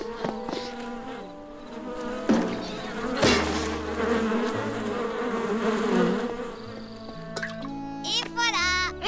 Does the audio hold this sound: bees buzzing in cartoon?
yes